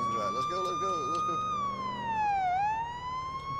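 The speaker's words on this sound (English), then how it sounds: "There's a siren." A police car siren wails in the Police Simulator Patrol Officer video game, a loud continuous tone sweeping slowly down and back up, heard up close with speech running underneath.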